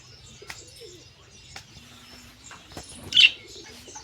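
A pigeon coos softly in low, repeated murmurs, close but faint, with a sharper chirp and light wing flutters near the end.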